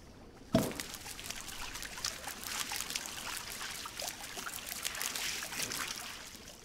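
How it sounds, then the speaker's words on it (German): Steady rushing spray of shower water in the survival game Green Hell, starting with a sudden burst after a short quiet moment and running on evenly, close and moderately loud. "Dusche."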